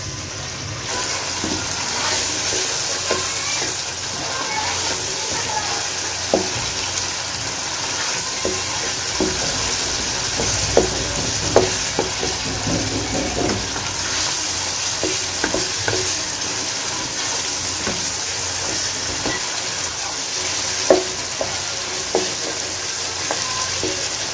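Beef karahi with softened tomatoes and spices frying in a pan, a continuous sizzle with scattered scraping stirs and a few sharper clinks, no talking.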